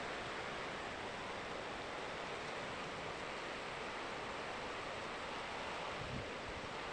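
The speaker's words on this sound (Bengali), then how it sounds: "কি পরিমাণে বাতাস হচ্ছে বলার বাইরে, দেখো। বৃষ্টিতে ভিজে যাচ্ছি, অনেক পরিমাণে বৃষ্টি হচ্ছে।" Strong wind and heavy rain make a dense, constant roaring hiss outdoors, unbroken and broadband, like buffeting gusts on a microphone, with no voices.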